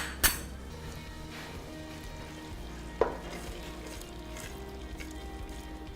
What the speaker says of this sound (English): Pasta, always every 1 minute, just give it a little stir.